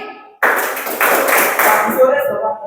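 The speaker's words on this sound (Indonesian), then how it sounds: "Sore tepuk 3 kali" A high school class in a clapping game claps together in bursts, the sharp group claps landing close and loud amid chatter and voices.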